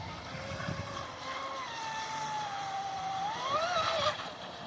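Mini Zonda 6S outboard motor driving a small boat at speed, a steady high engine whine that holds level, then rises and climbs in pitch as it is throttled up.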